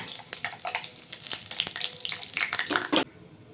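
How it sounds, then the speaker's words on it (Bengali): Crackling sizzle of potatoes and vegetables frying in hot oil for Mymensingh-style labra, with irregular pops and scraping stirs, fairly close and busy, stopping abruptly near the end. "দিয়ে দেব আলু আলুটা একটু ভাজা ভাজা হবে"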